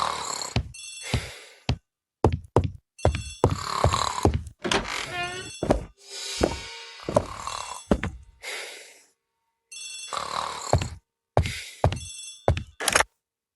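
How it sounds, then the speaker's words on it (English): In an audiobook of Agatha Christie's The ABC Murders, a telephone bell rings in a hall as a sound effect: repeated loud bursts of ringing separated by short silent pauses. "The telephone in the hall is ringing."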